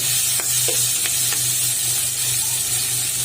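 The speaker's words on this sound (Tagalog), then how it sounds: "nagisa ako ng sibuyas, kamatis at bawang" Onion, tomato and garlic sauté in hot oil for pork binagoongan, a steady close sizzle and hiss with a low hum beneath and a few faint clinks from stirring.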